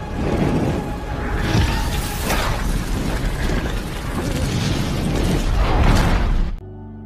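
A loud, sustained roaring blast rumbles and crackles for several seconds, full and dense, before cutting off abruptly into quiet.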